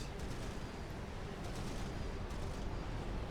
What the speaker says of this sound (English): it was just the explosion from the enemy disruptor shell